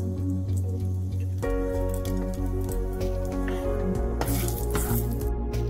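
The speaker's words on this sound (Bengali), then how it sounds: "আর এবার আমি ওই একই তেলে একটা ছোট্ট শুকনো লঙ্কা আর 2 এলাচ, 2 লবঙ্গ আর সামান্য দারচিনি দিয়ে দিচ্ছি।" Whole spices (a small dried red chili, two cardamom pods, two cloves and a bit of cinnamon) drop into hot oil already used for frying paneer, and a loud, continuous crackling sizzle fills the pan, close and without speech.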